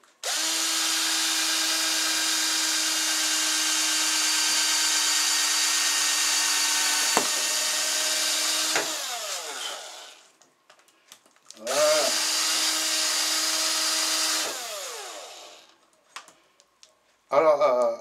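A power drill with an 8 mm bit bores holes through a wheel for a wheelbarrow or mower. Its loud steady whine runs for about nine seconds, stops, returns for a second long burst, then starts briefly again at the end.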